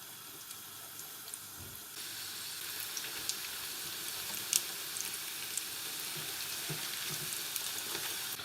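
Small spicy samosas frying in hot oil, a steady close hiss and bubbling sizzle that grows slightly louder partway through, with a few small pops and clinks.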